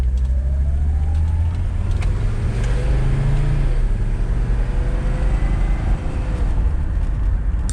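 A Mercedes 300D diesel car accelerates on an open road, its steady engine drone rising continuously and loud from inside the cabin for the whole stretch, with no voices.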